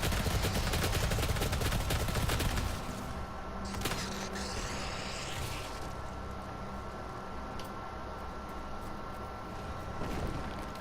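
Rapid chain gun fire in DOOM SnapMap, a dense loud burst of repeated shots for the first few seconds that gives way to a lower, steadier mix of game noise and scattered impacts.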